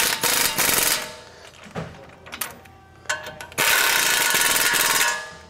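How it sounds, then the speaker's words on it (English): Ratchet on a 19 mm socket tightens caliper bolts on a Toyota Tundra during a lift install, giving bursts of close, rapid clicking and mechanical rattling separated by brief quieter gaps. "Now we're just gonna take our 19 millimeter socket and tighten up our caliper bolts."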